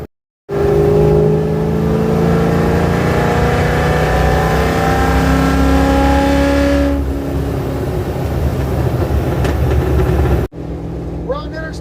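A car fitted with custom tailpipes cruises on Interstate 35 on a hot Texas summer day at 75 mph and 2,700 RPM, giving a loud, steady engine drone with rising tones. It cuts abruptly to a quieter cabin hum near the end.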